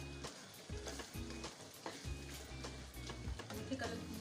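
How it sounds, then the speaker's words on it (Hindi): Beef keema with yogurt fries on full flame, a steady close sizzle broken by rhythmic stirring scrapes, with a voice talking faintly underneath. "अब इसको दही डाल के इसको अच्छी तरह इसकी भुनाई करेंगे ताकि दही का पानी भी जो है वो खुश्क हो जाए।"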